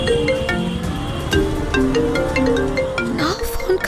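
Phone ringtone ringing in a Telugu TV serial scene, a loud melodic electronic tune of repeating tones that plays continuously over background score.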